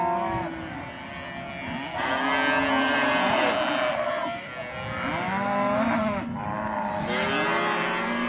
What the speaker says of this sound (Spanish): En el corral se juntaron las vacas de Pedro Sotelo y también las de un vecino de Concepción